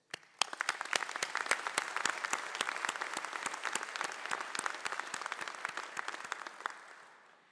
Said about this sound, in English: Please join me as we applaud their support of, dedication to, and the success of our students.